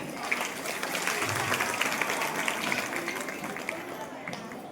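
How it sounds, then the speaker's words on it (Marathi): Steady, dense applause from an audience filling a hall at a community haldi-kunku gathering, a continuous close clapping wash that holds for several seconds without letting up. "एका जोरदार टाळ्या झाल्या पाहिजे"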